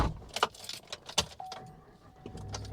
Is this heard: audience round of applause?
no